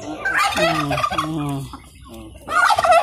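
Free-range turkeys gobble close by in a farmyard, several rapid warbling bursts in a row, a brief pause, then a loud gobble again at the end.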